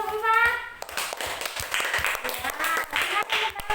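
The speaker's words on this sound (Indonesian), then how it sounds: "Tepuk tangan dong buat kelompok 4." Classroom children clap for a group of classmates, a short burst of scattered, uneven hand claps at moderate level mixed with a few young voices and an adult speaking.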